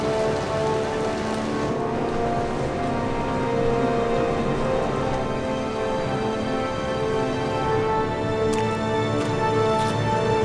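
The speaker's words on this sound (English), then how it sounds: "this heavy, heavy rain and snow up high" Heavy rain pours steadily in the mountains of Kaigah, Pakistan, a loud, unbroken roar of drops hitting surfaces, with a few sharper ticks near the end.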